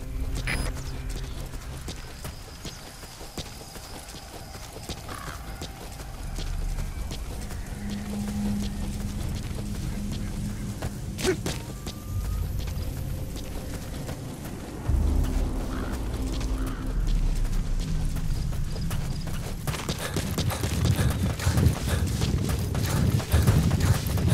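Steady clip-clop of horse hooves at a trot in Metal Gear Solid V: The Phantom Pain, continuous and fairly close, with game ambient sounds and occasional clatter around it.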